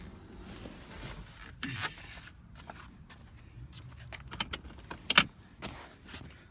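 Keys for a used 2012 Honda Odyssey minivan jangle in short bursts, with a sharp metallic clink near the end, over a quiet background with soft handling noises and no speech.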